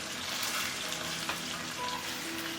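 Marinated chicken wings fry skin-side down in a little oil over the lowest heat, giving a constant close crackling sizzle with a faint clink near the middle and no speech.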